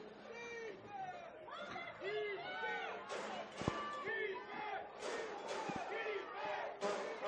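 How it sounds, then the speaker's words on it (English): A high school football crowd at Dunsmuir vs. Redding Christian chants and screams for defense, with many voices rising in loud rhythmic calls, shouts and claps, plus sharp bangs from stomping on the bleachers, all close and busy. "as you can hear the crowd screaming defense here"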